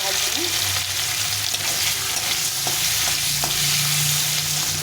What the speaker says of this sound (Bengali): তেলটা ভালো করে গরম করে নিয়েছি। হালকা করে একটু ভেজে নেব